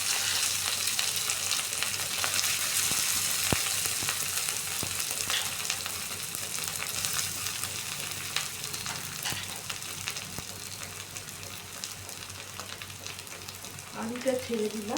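Mashed potato frying in hot oil for a Bengali egg devil snack makes a steady, dense sizzle with scattered crackles, and a brief voice comes in right at the end.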